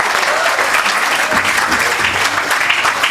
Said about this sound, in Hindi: तालियों से खैर मकदम के लिए नैयर